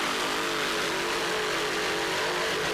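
An RC Marine A-Class racing boat runs at full throttle during a race, giving a loud, continuous high-pitched engine whine that holds steady throughout.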